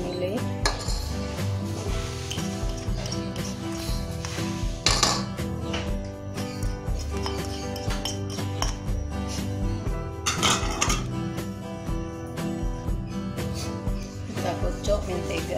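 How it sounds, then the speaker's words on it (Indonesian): Butter with vanilla, sugar and eggs being beaten in a bowl, a steady busy clatter of utensil against bowl with rhythmic clinks and scraping throughout, a voice faintly underneath. "kita kocok mentega dengan vanili, gula pasir dan telur, kita aduk semua"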